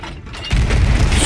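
Ship cannons firing in the pirate game Sea of Thieves, a sudden heavy boom that bursts in and rumbles on loudly, with a faint lead-in before the blast.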